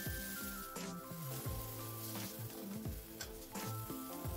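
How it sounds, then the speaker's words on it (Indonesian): Spice paste sautéing in a reduced amount of hot oil for Indonesian sambal telur tahu kacang panjang gives a steady, close sizzle with occasional stirring, with no talk. "kita akan tumis bumbunya sampai harum dan menyusut"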